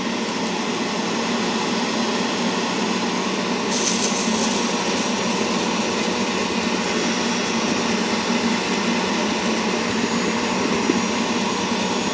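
A BISSELL Little Green multi-purpose carpet cleaner with a hose attachment runs continuously as a steady, loud motor whine, with a brief brighter hissing rise partway through, close by and alone.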